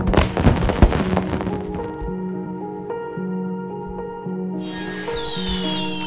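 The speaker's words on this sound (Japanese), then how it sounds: "こんなに暗いところで素敵な花火だね" Crackling bursts of fireworks in the video game Sky: Children of the Light pop loudly for about two seconds, then fade into steady tonal game music with a brighter shimmer near the end.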